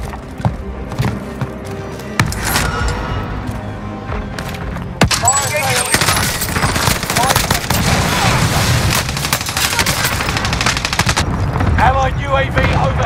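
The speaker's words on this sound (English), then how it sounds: "Ally precision airstrike incoming." Precision airstrike explosions in Call of Duty Vanguard Warzone, a dense barrage of loud booms and sharp cracks that pile into continuous rumbling blasts, with a voice speaking over the chaos.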